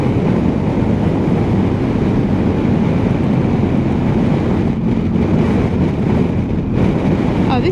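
Strong wind roars across the microphone during a motorcycle ride on a tree-lined peninsula by a lake in Finland, a loud continuous buffeting rush with no let-up.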